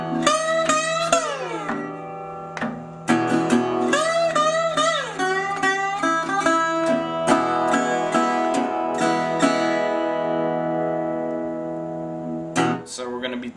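Acoustic blues guitar playing the introduction lick of a song, with quick sliding, ringing notes in bursts over a droning bass string, close and clear with no talking.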